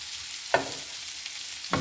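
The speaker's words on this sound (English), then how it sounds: "making sure the shrimp is cooking very good" Shrimp sizzle quietly in a hot pan, a soft steady hiss broken by two sharp stirring clinks of a utensil against the pan.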